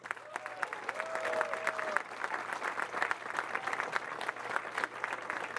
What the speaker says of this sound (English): how about another nice round of applause for our two finalists?